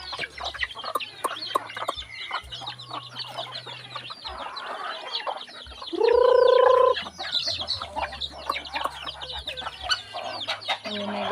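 Hens cluck and chatter in a busy flock, with a rooster crowing loudly partway through, all close by over faint rustling.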